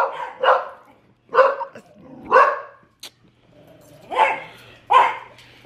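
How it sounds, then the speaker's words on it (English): Several dogs trained for protection bark in loud, separate bursts, about five barks spread over a few seconds with short gaps between, set in a tense domestic scene. "These dogs are trained to attack when somebody attacks somebody else."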